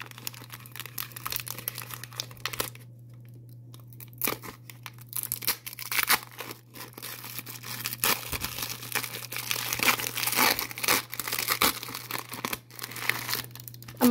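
A small package is unwrapped by hand, with irregular crinkling, rustling and tearing of the wrapper over several seconds, close and fairly loud against a low steady hum.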